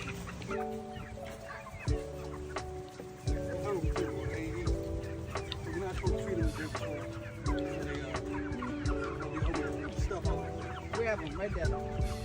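Chickens cluck and squawk loudly and repeatedly while someone chases and catches them in a housing-project yard, with agitated bursts close by and people talking excitedly throughout.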